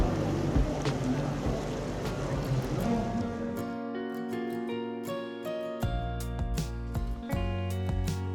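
Tourist boat motoring along the canals of Bruges on a sunny day, a steady low engine drone with a continuous rumble that shifts to a smoother, more tonal hum partway through, no talking.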